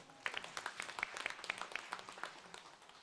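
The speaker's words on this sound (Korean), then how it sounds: "이때 박수 쳐야 되는 거 아닙니까?" A church congregation at a Sunday worship service claps softly, the scattered claps distant and quiet against the room's hush.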